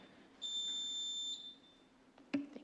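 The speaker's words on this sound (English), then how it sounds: "You'll hear a number of beeps." A countdown timer at a city council meeting podium gives one long, steady electronic beep lasting about a second. A short, sharper blip follows it in a quiet room.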